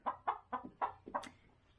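A hen clucks in a short run of about six quick, close clucks, evenly spaced and fairly soft, ending in a brief higher squawk.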